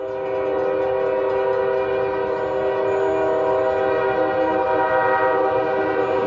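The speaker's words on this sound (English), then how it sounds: "You ain't worried about that train, buddy?" A short train with two engines and three cars passes and sounds a loud, sustained multi-tone horn, with a rumbling rail bed underneath throughout.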